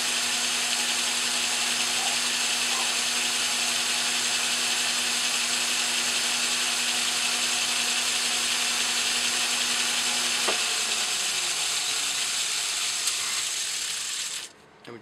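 Metal lathe taking light cuts on an eccentric for a PM Research model engine, a steady, loud machining whine with a sustained hum that runs unbroken for about fourteen seconds, then cuts off abruptly near the end.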